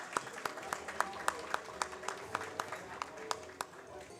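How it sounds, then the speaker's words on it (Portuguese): Audience applause for Bruno Bon at an executive board meeting ceremony, rendered as a steady run of sharp hand claps at a moderate distance, continuing evenly for the length of the clip. "Uma salva de palmas ao Bruno Bon."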